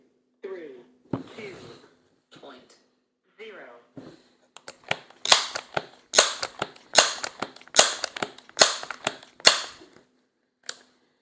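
A Crosman 1300 Medalist .22 multi-stroke pneumatic air pistol is pumped and fired, its sharp cracks and clicks coming in a quick irregular run with pauses, loud and close.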